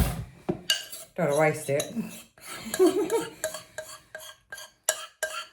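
A metal spoon scrapes a bowl to get out the last of a ginger cake batter, with a string of clinks and scrapes in an uneven rhythm, close and clear, while someone speaks briefly.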